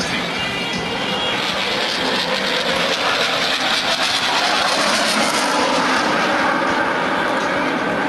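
An Italian Air Force Eurofighter Typhoon flies an airshow display, its jet engine a continuous loud, broad roar that swells slightly midway and holds steady, with a commentator speaking faintly beneath it.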